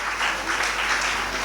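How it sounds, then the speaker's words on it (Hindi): An audience at a school toppers' felicitation ceremony applauds, a dense, steady burst of clapping heard up close with no voices over it. "मैं इसके लिए ज़्यादा ताली बजाने का मुस्तहिक करार देता हूँ इस बच्चे को"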